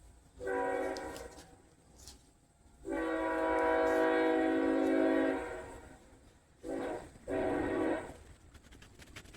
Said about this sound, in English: now that the train has passed